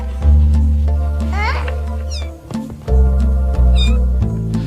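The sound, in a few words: kittens meowing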